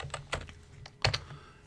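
Brief burst of light computer keyboard typing, several soft key clicks in uneven rhythm, close and quiet with no talking.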